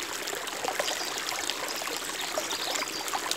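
A beautiful creek along the Pacific Crest Trail flows and trickles in the morning, a soft, steady babble of water with light splashes, close by and alone.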